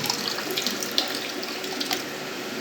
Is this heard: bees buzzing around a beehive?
no